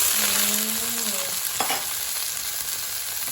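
Sesbania flowers being stir-fried in a hot pan give off a steady loud sizzle, with a brief clatter of a spatula partway through and no voices.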